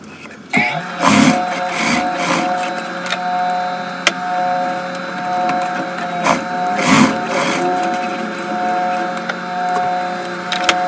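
A sewing machine stitches the elastic channels of palazzo pants, a close, steady mechanical whirring with rhythmic ticking pulses and brief pauses between runs.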